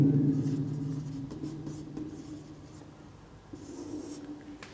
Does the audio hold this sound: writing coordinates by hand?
yes